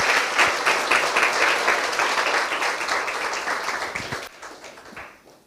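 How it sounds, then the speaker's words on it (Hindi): Enthusiastic applause from a church congregation, dense and steady, fading out toward the end. "आइए यीशु के लिए एक जोरदार ताली बजाएं"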